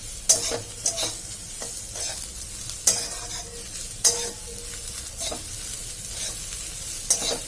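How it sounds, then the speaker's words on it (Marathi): A spoon repeatedly knocks and scrapes through a frying dish as chopped coriander is stirred in. Sharp clacks come at irregular intervals over a low, continuous sizzle, close and with no talk. "आता आपण जी आपण बारीक चिरून ठेवलेली कोथिंबीर ती टाकून घ्यायची आहे पुन्हा हलवायचं आपल्याला"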